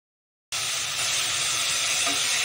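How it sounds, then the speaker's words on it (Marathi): Spices dropped into hot oil for Khandeshi eggplant bharit burst into a sudden loud sizzle that holds as a steady, close frying hiss. "मसाला टाकून घेतला गरम तेलात"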